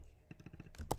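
Short run of computer keyboard keystrokes, several distinct clicks in quick succession, with louder clacks toward the end, close and clear.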